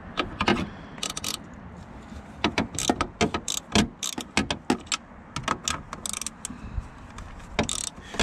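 A socket wrench ratchets on a mirror bolt of a Nissan Xterra, with rapid clusters of sharp clicks in uneven bursts, close and fairly loud, pausing briefly between strokes.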